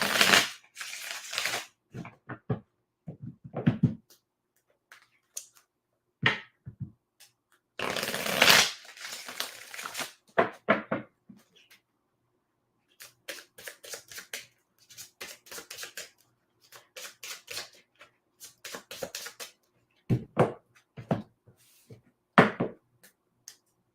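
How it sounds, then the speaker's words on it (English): Tarot cards shuffled by hand in repeated riffling bursts and soft slaps, some long and dense, others short and clipped, close and moderately loud with gaps of silence between. "Let me get a good shuffle for you."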